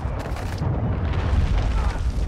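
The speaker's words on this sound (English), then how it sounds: "Hostiles launched a cruise missile." Cruise missile explosion in Call of Duty: Modern Warfare II, a heavy, sustained low boom with rumbling debris that holds steady and loud throughout, with no clear separate impacts.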